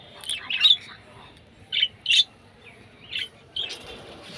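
Pet birds in a new bird house give several short, bright chirps and squawks, close by and spaced by brief quiet gaps, over a faint background hush.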